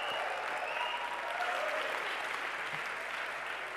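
A conference audience applauds on the arena stage of a startup summit as a guest walks on, an even, sustained wash of many hands clapping at moderate distance with no talk over it.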